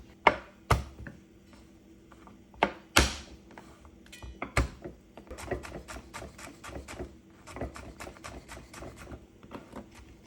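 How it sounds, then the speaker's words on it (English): A knife chops peeled vegetables for collard greens on a board: a few loud, separate cuts at first, then a quick, fairly even run of close chopping taps. "So I'm gonna get these nice and peeled and cut off the little ends and get it chopped up."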